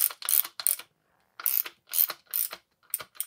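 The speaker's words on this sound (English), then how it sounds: "Do them ratchet first before we torque them." Ratchet wrench clicking rapidly while tightening the bolts on a 2018 Fox 34 Performance Elite FIT4 mountain bike fork, in several short bursts of fast pawl clicks separated by brief pauses, close and clear with no talking.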